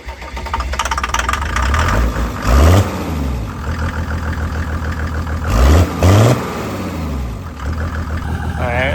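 A turbocharged Mercedes diesel engine idles roughly and loudly during a turbo test, then revs hard in two short bursts, the pitch sweeping up and falling back each time, with people talking in between.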